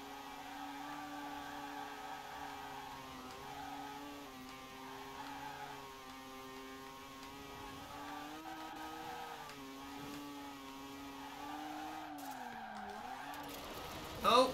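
Sustained engine whine with rising and falling pitch as a Mazda RX-7 Spirit's tires spin and skid in the video game Forza Horizon 4, steady and moderately loud with no talking.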